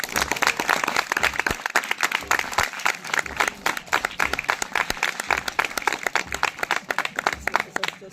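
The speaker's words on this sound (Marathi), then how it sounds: "तुमच्यासाठी एकदा टाळ्या तुम्ही वाजवा" Audience clapping in a lecture hall, a dense sustained round of applause from a crowd lasting throughout, steady and fairly loud with no speech over it.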